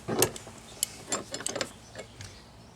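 Wrench tightening a hex nut on a tank valve during a Ranger auto-fill modification, heard as a short series of close metallic clicks and ratcheting ticks, irregular and fairly quiet, with no talking.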